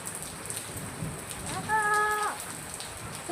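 Rain falls steadily with a soft, even hiss of drops on surfaces, and a brief tonal sound rises over it midway, with no talking.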